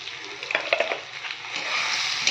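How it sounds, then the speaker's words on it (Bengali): Potatoes for aloo dum sizzling in hot oil in a pan while being stirred, with scraping spoon strokes over a steady frying hiss. "এবার আলুটাকে ভালো করে নেড়ে চেড়ে কিছু সময় এভাবে নেড়ে চেড়ে 5 মিনিট ভালো করে নেড়ে চেড়ে"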